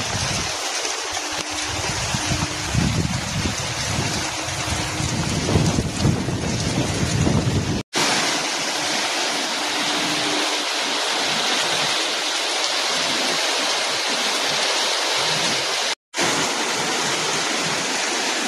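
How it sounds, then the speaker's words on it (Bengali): Heavy rain pours down in a dense, loud, continuous roar for the whole stretch, with a brief low rumble near the start and no one speaking. "আর বৃষ্টি দেখো জোরে শুরু হয়ে গেছে।"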